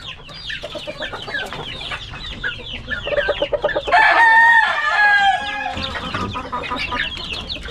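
Boston Roundhead chickens cluck and a rooster crows nearby among chirping, hungry chicks, a busy coop chorus with overlapping calls throughout.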